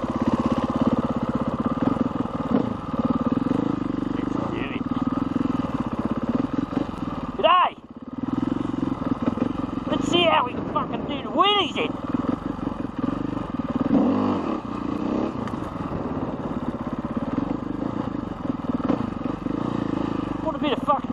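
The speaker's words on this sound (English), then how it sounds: "Slow wheelie training." Motorcycle ridden in slow wheelies in Australia, engine droning and revving steadily with rising and falling pitch sweeps, close and loud, with a brief drop near the middle; voices talk over it.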